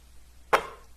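A single sharp basketball swish, noise-gated so it cuts in abruptly from near silence and decays quickly, standing alone as one short percussive hit.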